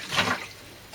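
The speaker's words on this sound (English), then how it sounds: "we need to give that compost a nice water." Water poured onto compost in melon seed pots makes a brief close splashing gush that tapers to a soft trickle within a second.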